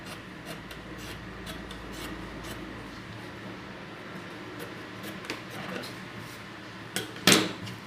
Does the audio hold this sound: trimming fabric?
yes